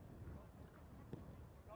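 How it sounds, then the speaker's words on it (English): Steady low wind rumble buffeting the microphone at an outdoor football match, with faint voices and distant activity underneath. "As you can hear, windy conditions."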